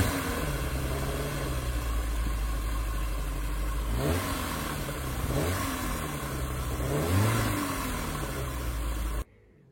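A 1991 Peugeot 205 Rallye engine revs steadily and loudly, the pitch rising and falling in several quick sweeps before cutting off abruptly at the end.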